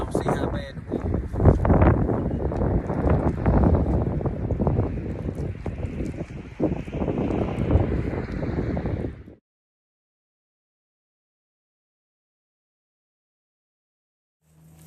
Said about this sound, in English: Y'all see how bad the wind is.